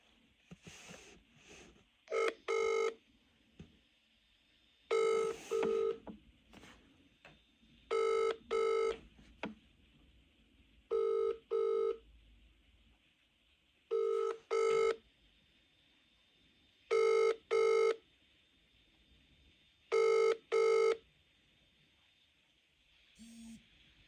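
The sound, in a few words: telephone ringing on a recorded call before voicemail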